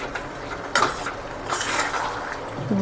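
Amla chutney with jaggery being stirred in a pan gives soft, irregular scrapes and clinks of a utensil against metal, moderately close with faint background noise.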